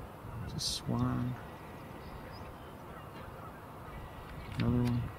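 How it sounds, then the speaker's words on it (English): Two separate bursts of Canada goose honking, each a short run of nasal calls, rise over a steady outdoor background hiss with other faint bird sounds between them. "Definitely hearing some Canada geese"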